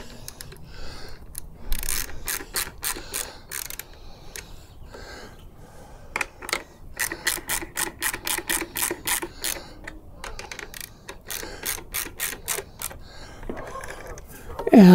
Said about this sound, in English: And those are tightened with a 6mm hex.